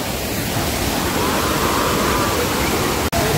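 A stream rushes along the Nageshwar trek near Chorwane in Ratnagiri, a loud, even wash of flowing water filling the whole stretch, with a sudden brief dropout near the end.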